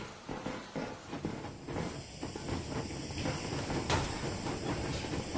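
A steam train moving off in a PS4 video game, with hissing steam, rumbling and faint rhythmic clatter of the wheels building steadily over several seconds, no speech.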